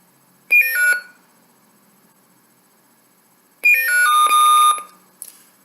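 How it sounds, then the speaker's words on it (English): A lightsaber's control button gives off two bursts of rapid descending electronic beeps with a pause between, crisp and close, followed by a brief click. "if you keep holding it, you'll hear another series of beeps"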